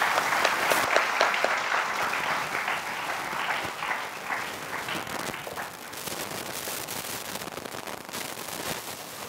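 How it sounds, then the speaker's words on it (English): An audience claps to welcome a speaker at an academic talk on meditation and stress, a loud dense burst of applause that swells early, then settles into a steady, slightly thinner patter across the hall. "please welcome Sir with the thunderous sound of clapping"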